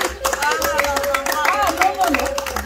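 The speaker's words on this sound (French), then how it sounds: "On applaudit." Audience clapping in quick, uneven rhythm, with a voice calling out clearly over the claps.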